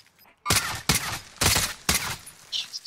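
A DMR rifle fires in the Warzone video game: four loud, sharp bursts in quick succession, then a fainter shot at the end.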